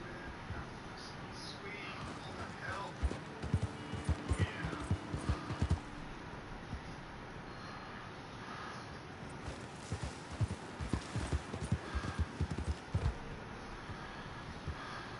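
Horse hooves clip-clop steadily on the ground in Red Dead Redemption 2, a rhythmic walking beat with clustered louder bursts against a continuous outdoor game ambience.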